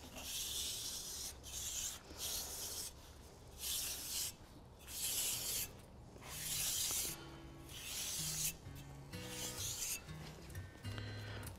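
Margin trowel lightly scraping and cutting the surface of freshly cast concrete on a chair, in short rough rubbing strokes with pauses, close and fairly quiet, with faint tapping sounds later.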